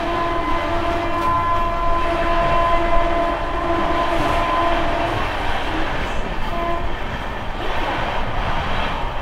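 Sealdah Jalpaiguri Road Humsafar Express running on its route, a steady loud rumble of wheels and carriage noise with sustained tonal hum throughout, no voices.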